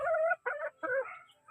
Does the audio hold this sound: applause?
no